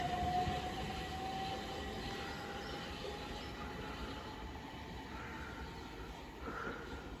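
A railtour train rolls through Headcorn station in Kent, a steady low rumble of wagons and wheels with a faint whine at the start, constant and moderately distant throughout.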